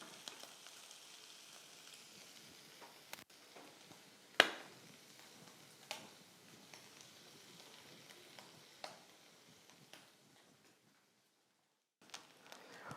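Bacon frying in a pan for spaghetti carbonara, a soft steady sizzle with scattered crackles and a few louder pops and utensil clicks, fairly close and with no talking.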